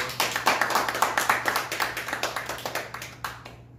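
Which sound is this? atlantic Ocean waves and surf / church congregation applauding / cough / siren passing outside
church congregation applauding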